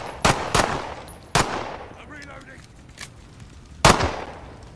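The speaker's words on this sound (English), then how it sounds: "I'll snipe him with my pistol." Pistol gunfire in a survival video game: four sharp, loud single shots spaced unevenly, each with a short echoing tail, separated by quieter in-game sounds.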